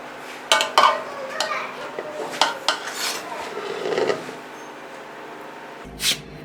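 A utensil scrapes and clinks against a pot while chicken biryani is served out, with several sharp metallic knocks and rasping scoops at an irregular pace, then a final clank after a short pause.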